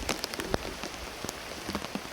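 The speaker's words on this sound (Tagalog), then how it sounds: "Hugas ulan oy. Bagyo naman siguro ni." A brief stretch of heavy typhoon rain, a constant close roar of drops with occasional sharper taps standing out, and no voices.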